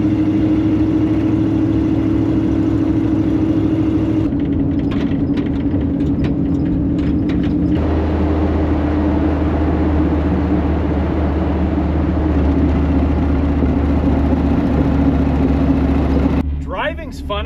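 An old Dodge Power Wagon pickup with a custom exhaust and rear-mounted fuel tank drives along with a steady, low rumbling drone, with voices over it throughout.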